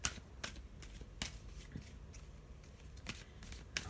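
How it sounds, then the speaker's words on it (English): Oracle cards being handled and laid down, soft papery flicks and taps coming in a few scattered bursts, quiet and close, with no talking. "I'm just going to put down an oracle card to go with it."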